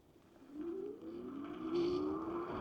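An 8 horsepower Wired Predator all-wheel-drive electric vehicle pulls away from a stop, its motor whine rising smoothly in pitch and growing louder over a few seconds, close by.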